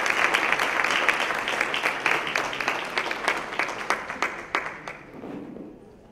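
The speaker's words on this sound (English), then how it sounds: "let's give a round of applause to our winner" An audience at a health policy town hall applauds an award winner, a dense sustained round of clapping that holds steady and then tapers off toward the end, without voices over it.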